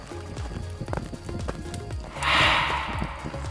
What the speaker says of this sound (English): This is the event where the ghost does not physically manifest and it simply just does a ball of air flying through the air.